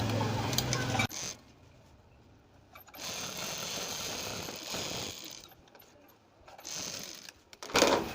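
A sewing machine running along a fabric strip for a sleeve design, a whirring mechanical run followed by quieter stretches and further bursts of stitching, with a sharp louder burst near the end.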